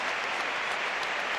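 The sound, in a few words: applause for tennis player leaving the court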